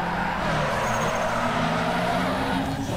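A car drifts through a corner in Need for Speed Underground 2 at Wörthersee, with a steady, loud engine drone and tire noise sustained for the whole stretch.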